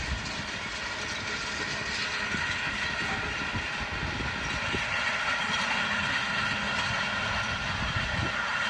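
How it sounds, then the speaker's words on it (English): A tractor works across a field it is cultivating, a steady low engine drone with rumbling mechanical rattle heard from a distance, continuous and even throughout with no voices. "Gotta love a tractor."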